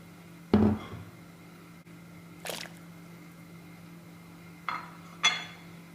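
A few separate splashes and thuds as grains and meat drop into a pot of boiling water for Iraqi harissa, spaced apart over a steady low hum.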